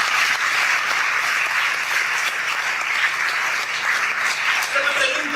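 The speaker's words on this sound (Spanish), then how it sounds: "Dale un aplauso a Dios, por favor, esta mañana." Applause from a church congregation at a morning service fills the room as a steady, dense wash of clapping, with some voices mixed in underneath.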